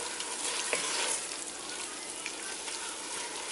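Greek meat sauce browns in a hot pan with a steady, close sizzle and hiss, broken by a few small pops and stirring clinks, and no voices over it.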